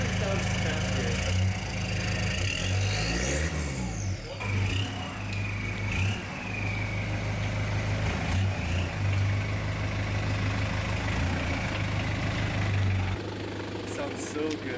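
A 1996 Toyota Hilux Surf with a 1KZ-TE engine idles through a newly fitted Fujitsubo 270-20937 exhaust, giving a steady, low, close drone with a brief rise in revs early on.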